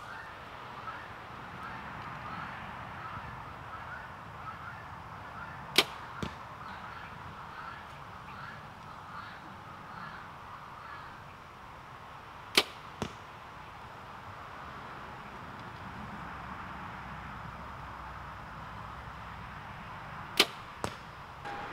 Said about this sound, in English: So we'll take a few more shots and see how this bow performs.